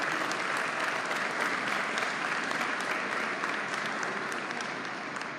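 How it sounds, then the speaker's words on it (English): A crowd at a signing day ceremony applauds the coaching staffs with sustained, even clapping that fills the room and fades slightly at the end. "we can give a big round of applause for the coaching staffs"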